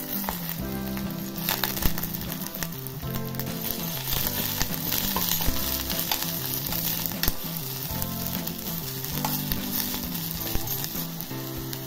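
Soaked dried vegetables fry in a pan with roasted garlic and chillies, giving a steady, close sizzle and crackle with faint stirring clinks throughout.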